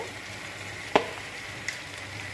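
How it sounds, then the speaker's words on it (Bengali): Garlic and ground cumin fry in a pan with a steady low sizzle, broken by one sharp clack of a spoon against the pan and a softer tap later, close and without speech. "দিয়ে আরেকটু নেড়ে ছেড়ে আরেকটু ভেজে নিব"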